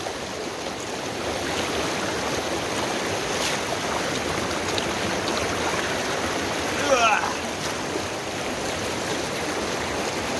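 Knee-deep water of Little Upright Creek rushes steadily in the Rocky Mountains, a continuous broadband roar that holds at an even level throughout, with a brief splash or disturbance near the end.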